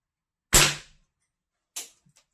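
A vintage Feinwerkbau 300S match air gun fires, giving one sharp crack that fades quickly, then a second quieter shot a little over a second later with a faint tick after it. Indoors, no voices.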